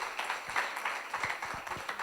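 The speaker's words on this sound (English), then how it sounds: "Clap for him as we welcome Dr." Audience clapping to welcome a speaker at an emergency medicine conference in Ghana, a steady, fairly faint patter of many hands lasting the whole moment.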